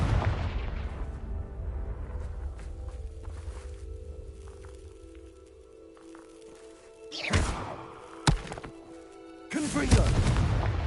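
Confringo spell explosions from Hogwarts Legacy gameplay: a sharp burst near 7.5 seconds, a brief crack around 8.3, and a heavier blast near 9.7, over a steady game ambience hum.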